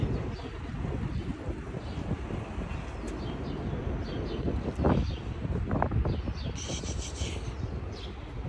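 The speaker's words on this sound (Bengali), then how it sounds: "বাতাস দেখো কিভাবে ঘুরে যেতেছে" Wind blows outdoors among cherry blossom trees in New York City, a steady, loud rushing roar buffeting the microphone throughout, with faint bird calls in the distance.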